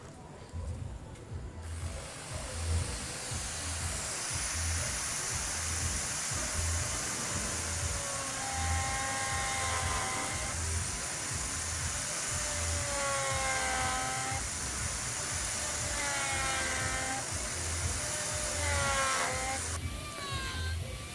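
An electric hand wood carving tool with a bit fitted runs steadily, its motor whirring with a regular pulsing beat and occasional higher whines as the bit bites into wood.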